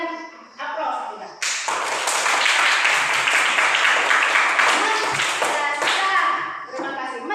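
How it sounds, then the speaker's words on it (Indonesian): An audience applauds loudly for several seconds, dense continuous clapping swelling and then tapering off, with voices speaking briefly before and after. "Berikan aplaus kita."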